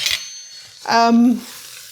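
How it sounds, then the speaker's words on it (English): A spoon stirs onion powder, ground ginger and Fox Point seasoning blooming in a hot pot for spiced butternut squash soup: a quick clink, then a short ringing metallic scrape, close and fairly loud. "we're just going to stir them up here to bloom them"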